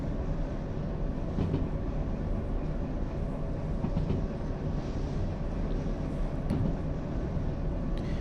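A large locomotive in the Derail Valley video game rolls along the rails at speed, a steady low rumble with faint rhythmic wheel clatter running continuously, with no voices.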